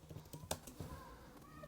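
Quiet tapping on a computer keyboard while setting up a Framer blog, a handful of soft, irregular keystrokes close by with no talking.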